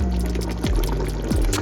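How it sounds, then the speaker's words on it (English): Water poured into a thick chicken drumstick curry stew: a loud, close, steady pouring rush with two quick gurgling drops partway through, no voices over it. "it's nice and thick, I might add some water to it."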